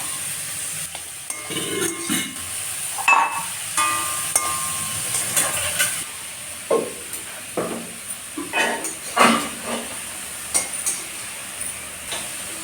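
Gongura dal base with onions, turmeric and salt being stirred and fried in a pan, a steady soft sizzle under repeated scraping strokes of a spoon against the pan bottom, close and moderately loud.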